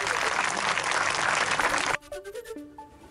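Crowd clapping hands in support at a political gathering, a dense loud burst of applause that stops abruptly partway through, giving way to faint background voices.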